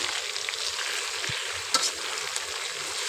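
Steady hissing sizzle of unbattered chicken frying in hot oil, with a few faint pops and clinks, no voices.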